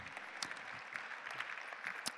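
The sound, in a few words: audience applause at gala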